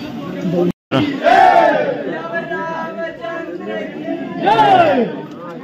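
A crowd of pilgrims queuing at a hilltop temple in Chitrakoot, dense overlapping voices and loud chanting cries close by, one brief drop-out near the start.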